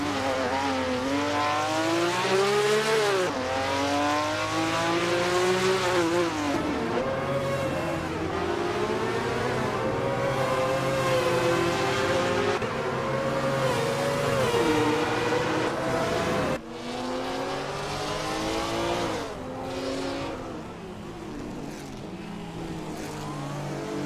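A race car runs at sustained high revs during a race, its engine droning loudly and steadily with shifting pitch sweeps as it accelerates and lifts, continuous throughout with no talking.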